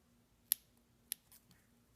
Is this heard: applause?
no